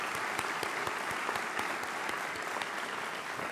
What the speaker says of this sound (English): we owe him a great round of applause as well.